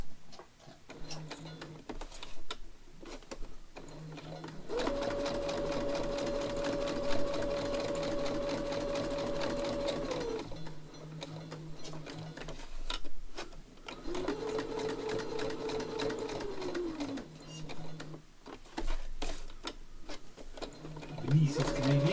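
A sewing machine stitches through book pages being made into junk journal ephemera, running in two long steady bursts with a high whine, separated by quieter pauses filled with clicks and handling noise.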